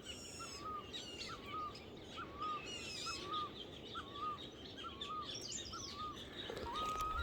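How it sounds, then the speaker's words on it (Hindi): Birds call and chirp throughout a Himalayan hill forest, one bird repeating a short clear phrase at a steady pace while others twitter in the background over a faint wash of ambient noise. "कितनी सारी पक्षियाँ चहचहा रही हैं, यही तो जंगल की महिमा है।"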